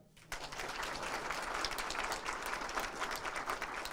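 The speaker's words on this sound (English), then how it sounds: "Yes, you can applaud" Applause from diners honoring the co-grand marshals at a St. Patrick's Parade committee installation dinner breaks out after a brief quiet moment and continues as a dense, steady wash of many hands.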